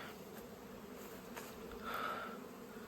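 Honeybees buzzing around the hives of an apiary during a heavy robbing attack, a faint, steady drone of many insects that swells slightly near the end; no voices.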